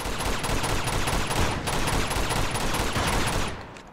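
Sustained gunfire in Uncharted 2: Among Thieves, a dense, continuous fusillade of rapid shots that stays loud for several seconds before tapering off.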